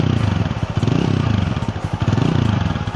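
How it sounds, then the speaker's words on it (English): A TVS Apache RTR 200 4V motorcycle idles and blips its throttle close by, a loud, throaty exhaust note with rhythmic pulsing and repeated revs throughout. "listen to the exhaust note"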